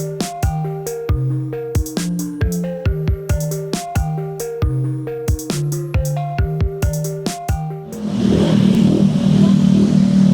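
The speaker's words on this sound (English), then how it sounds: "Loud motorbikes, loud motorbikes." Loud motorbikes pass on a road in Cebu, a close engine drone with rhythmic revving pulses for several seconds before a broad rushing roar of passing traffic takes over; no one talks.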